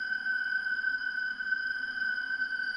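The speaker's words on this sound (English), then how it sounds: "The danger sound cue sounds like this," A steady high electronic tone drones alone without pause, a sustained alert-like hum with faint overtones, lasting a few seconds and ending abruptly: the danger sound cue from a Five Nights at Freddy's game.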